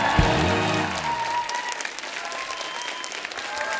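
A TV studio audience breaks into loud applause for visiting radio jockeys on a comedy show, dense clapping running throughout as a brief musical sting fades out at the start.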